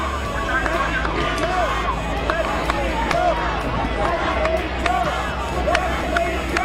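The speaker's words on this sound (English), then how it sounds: "So the crowd is getting louder." Protest crowd of Black Lives Matter demonstrators in Minneapolis, a dense babble of many voices and scattered shouts swelling steadily, close and loud with a low rumble underneath and no single clear speaker.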